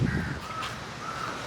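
A crow caws near a house by a beach, a couple of harsh calls over steady background noise.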